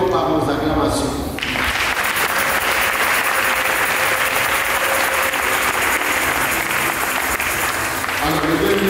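Guests at a religious wedding ceremony applaud the couple in sustained, dense clapping that fills the whole stretch at steady loudness, starting after a brief quieter opening.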